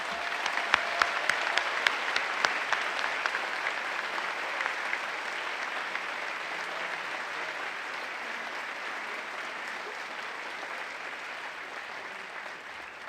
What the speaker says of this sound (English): Please join me once again in a round of applause for our outstanding professors.